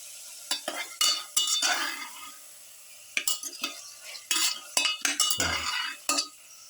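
Lamb, garlic and spinach stew mixture stirred in a pan with a utensil, giving repeated scraping, clinking strokes in uneven bursts over a soft sizzle, close by with no talking.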